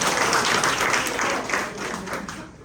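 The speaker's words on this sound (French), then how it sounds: "applaudissez pour vous" An audience applauds at a live storytelling performance of a West African folk tale, a dense, steady wash of clapping that fades slightly toward the end.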